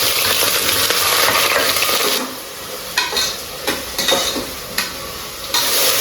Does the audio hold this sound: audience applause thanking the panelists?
no